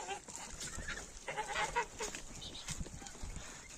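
Faint honking and cackling of several very large geese on a smallholding, overlapping in irregular bursts with other farmyard noise in the background.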